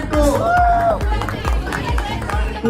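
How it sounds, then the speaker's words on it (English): A round of applause from staff at a corporate team-bonding event, with claps and crowd noise filling the short stretch beneath loud chatter and voices. "big round of applause for 1 and 2"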